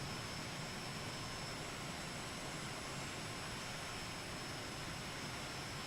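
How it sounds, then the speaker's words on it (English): A flight simulator jet airliner taxis along a runway at ZYTX, a steady, dense engine roar and rumble holding at an even level throughout with no voices. "I'm just going to taxi to one end of this runway and take off."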